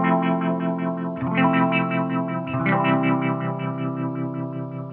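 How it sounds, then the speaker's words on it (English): An electric guitar runs through an opto tremolo effect in the Neuro mobile app, playing sustained chords that pulse steadily in volume, with a fresh strum about every second and a half. "I think for now, I'll stick with my normal opto tremolo."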